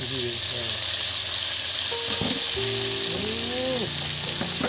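Ginger paste with spices sizzles and fries steadily in a pan, a constant close hiss with a few clinks and scraping stirs partway through.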